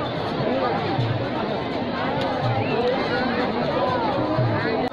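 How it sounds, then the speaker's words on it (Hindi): Devotees packed around a Hindu kirtan gathering create a dense, continuous babble of many overlapping voices, loud and close throughout. "आप देख सकते हैं चारों तरफ यहाँ भक्त लोगों की भीड़ लगी हुई है"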